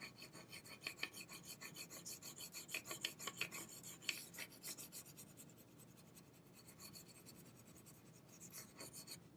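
Crayon scratches over dark marker on paper in quick, soft back-and-forth strokes, close but quiet, a steady rubbing rhythm that eases off toward the end with no talking.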